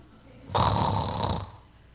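A single snore is imitated by voice during an inhale, one close, rasping, rattling breath lasting about a second in a quiet room.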